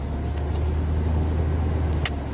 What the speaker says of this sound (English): RPMs are revving up when I go downhill